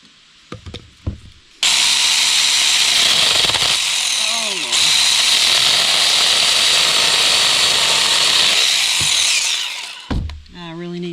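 Chainsaw with a loose chain cutting through wood, a loud, steady rasping roar close by for about eight seconds, bracketed by a few knocks and a brief voice.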